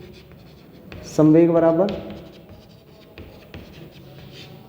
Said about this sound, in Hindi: सूत्र लिखेंगे